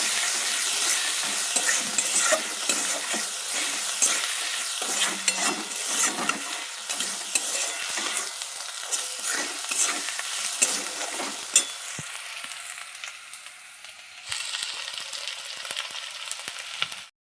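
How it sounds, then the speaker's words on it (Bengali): Spice paste with salt and turmeric fries in a pan, a close, busy sizzle with frequent scraping stirs that thins out toward the end before a last softer hiss. "এর মধ্যে লবণ হলুদ দিয়ে দিলাম। মশলাটাকে একটু কষিয়ে নেব।"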